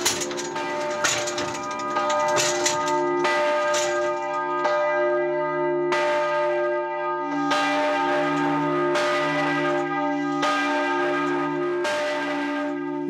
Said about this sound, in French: déclenche le système qui lance la cloche en volée